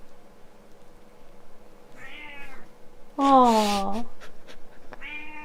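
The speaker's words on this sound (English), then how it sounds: "Here's the cat." A domestic cat meows several times nearby, with short drawn-out cries and one louder, longer yowl in the middle, while a person murmurs softly in the background.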